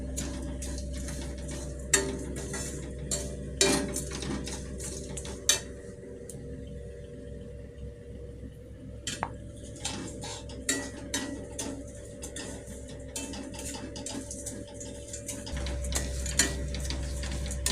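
A utensil stirs sugar and powder in ghee in a metal pan, giving irregular scraping and clinking knocks at close range over a soft, steady background.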